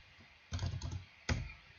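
Computer keyboard keys pressed while working in SketchUp, two quick separate key clicks about three-quarters of a second apart, close and quiet, with no talk.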